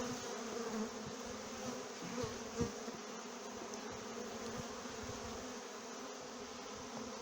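Honey bees buzz softly and continuously while two hives are combined, a faint, even hum with a few small knocks and bumps.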